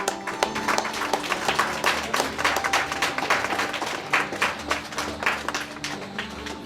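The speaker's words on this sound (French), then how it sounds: "On applaudit." Audience applause at a church's tenth anniversary celebration, a dense, steady clapping from a crowd sustained throughout, with faint tonal hum from the hall beneath.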